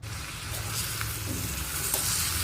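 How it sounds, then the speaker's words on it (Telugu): Boiled cabbage hits hot tempering oil in a pan, setting off a loud, close burst of sizzling and spattering with a stir or two, no talking. "మనకి ఇలా ఆయిల్ తేలుతూ ఉన్నప్పుడు మనం ఉడికించిన క్యాబేజీని యాడ్ చేసుకోవాలి."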